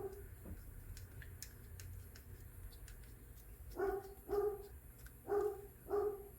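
A dog barks in two pairs of sharp, fairly close barks over low room noise, with small mechanical clicks from a robot vacuum wheel motor being taken apart earlier on.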